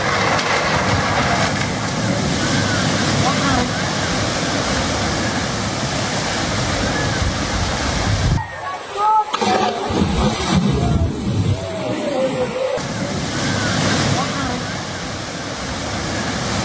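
Flood water rushes loudly and continuously in Himachal Pradesh, a dense roaring torrent with a short stretch where the roar thins and splashes stand out, while a voice talks over it.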